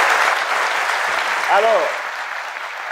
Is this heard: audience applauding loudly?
yes